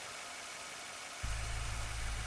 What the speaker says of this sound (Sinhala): වාහනේ එන්ජින් එක ඇබ්නෝබල් නොයිස් එකක් එක්ක ඇබ්නෝබල් ගැසීමක් තියෙනවා